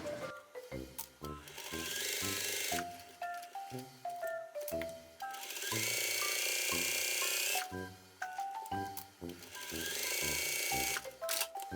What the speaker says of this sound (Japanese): そしたらこの周りにステッチをかけていきますか。